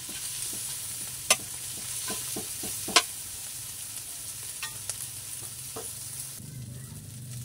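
Chicken meat frying in a pan for adobong kangkong, a constant bright sizzle with scattered clicks and scrapes of stirring, one or two sharper knocks against the pan.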